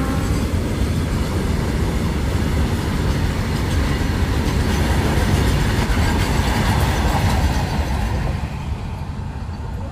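A train rolls past on railway tracks, loud and close, with a dense rumble and rhythmic clatter that holds steady for about ten seconds, then eases slightly near the end.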